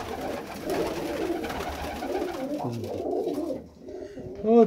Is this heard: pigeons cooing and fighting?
yes